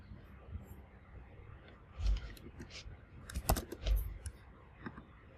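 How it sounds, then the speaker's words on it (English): A ChatGPT prompt is typed on a computer keyboard in soft, irregular bursts of key clicks, fairly quiet and close, with a few louder taps. "So I will be typing here."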